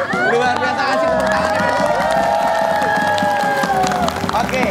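Studio audience of an Indonesian TV quiz show applauds and cheers loudly and steadily, with crowd noise and a bright music bed running throughout.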